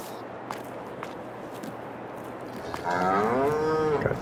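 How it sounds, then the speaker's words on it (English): Cows lowing in Farming Simulator 22 on an old Polish farm: a single loud, drawn-out moo rising near the end, over faint farmyard ambience with a few soft knocks. "we'll check on the cows."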